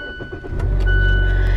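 A 2016 Mazda6 Grand Touring starting by push button: a short whirr of the starter, then the engine catching and settling into a loud, steady idle close by.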